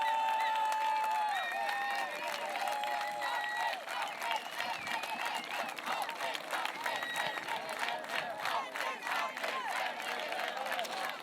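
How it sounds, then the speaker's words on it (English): A crowd of protesters at a direct action shutting down coal infrastructure in Germany, cheering and clapping outdoors with whistles and shouted voices, a sustained, moderately distant roar that holds for the full length. "Everyone's cheering."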